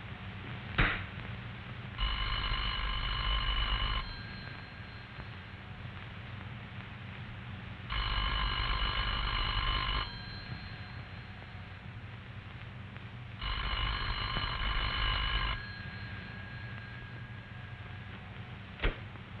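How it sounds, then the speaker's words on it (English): A classic telephone's bell rings three times in evenly spaced bursts of about two seconds, separated by quiet gaps with faint background hiss. "The party at this number will hear a clear, evenly spaced ring"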